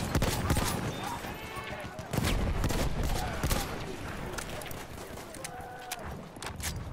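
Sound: machine gun fire in the video game Battlefield 1

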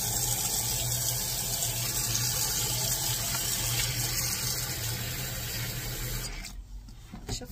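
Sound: water being poured out and refilled

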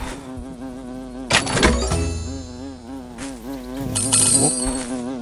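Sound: wasp buzzing in the video game Walk Master

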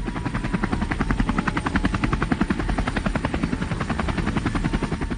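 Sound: helicopters arriving at a village

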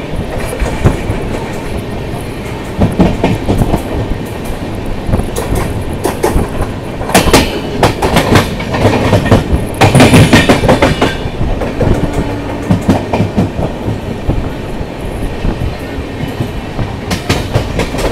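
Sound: local train passing at Arakkonam junction

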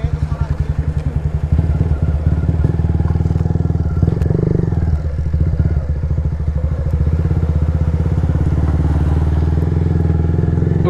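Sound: Yamaha MT-03 motorcycle riding

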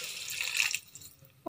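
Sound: pouring water into a pan of potato curry

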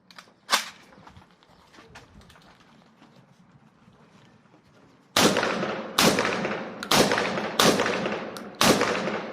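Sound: Saiga 12 semi-automatic 12-gauge shotgun firing

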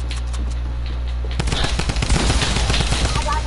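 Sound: drum gun firing in video game Fortnite box fight

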